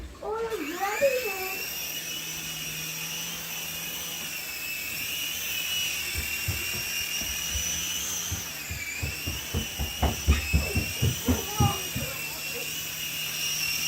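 An RC Cray-Z Matthews toy helicopter flies indoors, its rotors giving off a steady, high, whining buzz with small pitch dips, while a person talks over it near the end.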